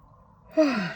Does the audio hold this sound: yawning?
yes